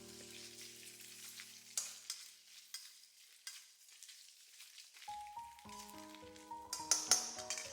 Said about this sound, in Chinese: 先把肥肉下锅，小火煸炒一下，炒出里面的肥油